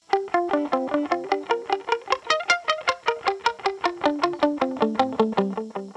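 Rapid picked notes on an electric guitar run through a TC Electronic echo pedal imitating a tape echo, each pluck sharp and clear with repeating decays, playing alone in a steady rhythmic phrase.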